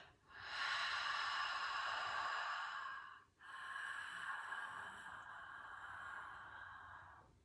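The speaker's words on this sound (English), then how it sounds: "it has the sound of fogging up a mirror" Ujjayi breathing is made with the throat constricted as if fogging a mirror: two long, close, hissing breaths, an exhale followed by an inhale, each several seconds long with a brief pause between and no talking.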